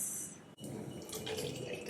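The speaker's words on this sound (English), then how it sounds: "I'm going to pour it in this bottle." Homemade toner is poured into a bottle, a close trickling, splashing liquid stream that briefly breaks off and then resumes more fully.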